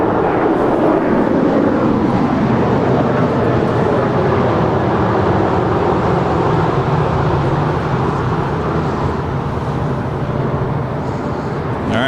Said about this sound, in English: What a gorgeous livery on the 747, now about to touch down on 25 left